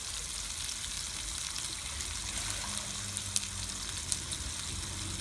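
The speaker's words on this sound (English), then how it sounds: "you want to take the water in this bowl and you want to re-put it back in" Water from a bowl of strained, scalded curry mee ingredients is poured back in, a steady close trickle and splash running evenly throughout with no talking.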